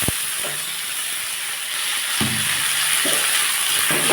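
Beetroot and carrot frying with potatoes in a kadai for a Bengali curry, a constant hissing sizzle with a few soft stirring thumps, close and steady.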